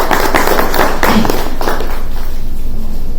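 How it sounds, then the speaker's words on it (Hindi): An audience claps together to welcome the guest Geetashree at a literary event in Lucknow, a loud, dense burst of applause that fades out toward the end. "हम लोग सब ताली से स्वागत करें गीता जी का।"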